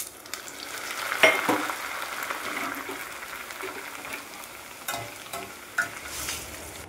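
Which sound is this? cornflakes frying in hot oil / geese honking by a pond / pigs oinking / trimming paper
cornflakes frying in hot oil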